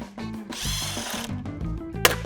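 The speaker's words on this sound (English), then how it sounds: "we use a 13mm socket. It's got to be a deep socket to remove the seat." A 13mm deep socket on a ratchet or power driver backs out the seat bolt of a TM15 Trail Master dirt bike, giving a close, steady mechanical whirr with short clicks and a sharp metallic clack near the end.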